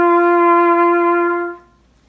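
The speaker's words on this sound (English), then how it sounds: "we plug the mouthpiece into the trumpet, and then we get a nice sound like this." A trumpet with its mouthpiece in place plays one clear, sustained note, loud and close, holding steady for about a second and a half before it fades out.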